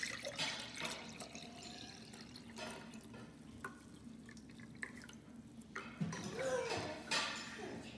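Water pours from a coffee pot in a steady, faint, trickling stream with small splashes and drips, heard close against a quiet room background.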